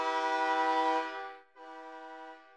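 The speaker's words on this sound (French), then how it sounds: "On souhaitait l'entendre quelquefois ce soir, ce klaxon." A hockey goal horn sounds at the Centre Premier Tech arena, a loud sustained brassy blast that dips briefly and resumes, heard alone.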